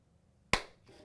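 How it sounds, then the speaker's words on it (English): A single sharp hand clap, close and crisp, meant to trigger a robot's sound sensor, followed by a faint brief after-sound. "So if I clap, it can hear it and it should be able to move."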